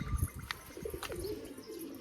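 Pigeons coo softly in a low murmur, with a few faint chirps and light clicks scattered over a quiet background.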